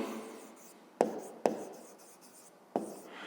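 A pen writes figures on paper while a Ukrainian fifth-grade math exercise is worked out, with soft scratching strokes punctuated by three sharp taps as the pen strikes the page, close and quiet, no talking.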